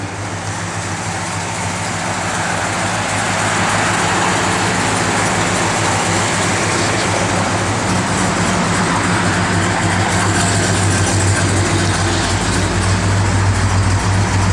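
A 1969 Dodge Coronet R/T with a rebuilt 440 V8 and no big cam runs steadily, a loud deep continuous rumble and drone that swells slightly as it moves, with no voices.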